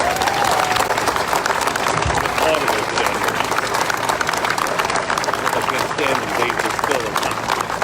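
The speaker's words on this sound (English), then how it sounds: "Let's give the families a round of applause." A crowd at a police support rally claps and cheers loudly in sustained applause, dense and continuous, with voices mixed in throughout.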